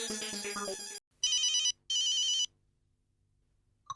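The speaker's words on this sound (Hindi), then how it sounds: "मेहता साहब को फोन करके पूछता हूँ कि आपकी क्या राय है" A telephone rings in an electronics shop: a brief musical tone, then two sharp, loud electronic ring bursts separated by a short pause, followed by quiet and a faint click.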